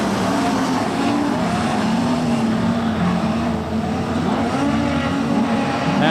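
Modified sedans race at Kingaroy Speedway, a steady loud engine roar from several cars filling the whole stretch without a break, close by and constant, with no voices heard over it.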